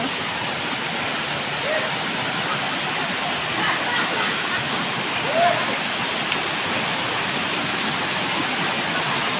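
Water from a natural spring runs in a steady, continuous broadband rush, close and constant throughout, with faint voices now and then underneath.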